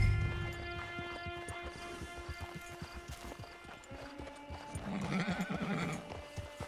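A horse in the Red Dead Redemption 2 video game whinnies while its hooves clip-clop in an irregular rhythm, close and moderately loud, with no talking.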